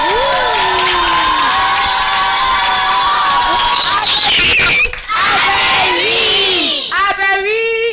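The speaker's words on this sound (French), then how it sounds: "On va se mettre debout et puis on va applaudir très très fort." Children at a kindergarten in Katiola cheer and shout loudly, a dense crowd of high young voices whooping and crying out together, nearly continuous with brief dips near the end.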